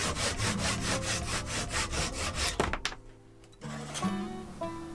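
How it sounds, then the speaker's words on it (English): Hand saw cutting a small block of catalpa wood along the grain, a steady run of rhythmic rasping strokes, close and loud, then a brief pause and lighter scraping toward the end. "I start by sawing up a block that's about 1 inch by 1 inch and about 1¾ inch tall along the grain."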